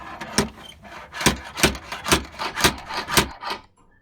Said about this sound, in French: Je continue le débosselage avec la griffe.